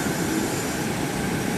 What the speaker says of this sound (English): Here's a downcoming train. It has three engines on it, one on the front, two on the back.